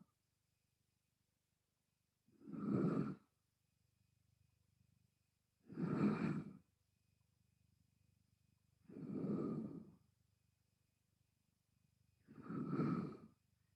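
Four slow, even exhaled breaths during a gentle gym exercise, each a soft, breathy whoosh about three seconds apart, close up against near-silence.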